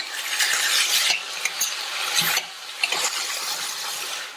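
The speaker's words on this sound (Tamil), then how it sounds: "இந்த காய் மீடியம் ஃபிளேம்லயே எண்ணெயிலேயே நல்லா வதங்கட்டும்." A steady broadband hiss of vegetables sautéing in oil over a medium flame, with occasional clinks and scrapes of a utensil stirring in the pan.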